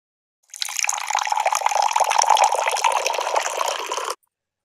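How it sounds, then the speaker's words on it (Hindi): Boiled and cooled water pours steadily into a container for kanji, a fermented beetroot and carrot drink, for about three and a half seconds, a continuous close splashing rush that starts and stops abruptly. "और ये पानी जो हमने उबाल के ठंडा कर लिया है, इस पानी को हम इसमें डाल देंगे।"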